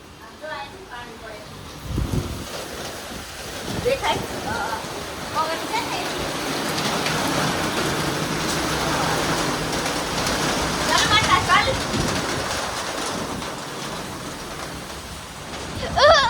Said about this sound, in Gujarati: ત્યાં વરસાદ આવ્યો પછી ભાગા દોડી કરવી પડી.